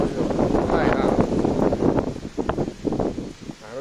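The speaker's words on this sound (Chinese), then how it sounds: "风太大了，呼呼的" Strong wind roars during a heavy tropical rainstorm in Singapore, heard from indoors near a window, a dense continuous rushing noise with a person talking over it throughout.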